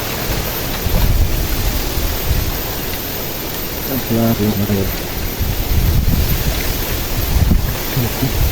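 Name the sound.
strong wind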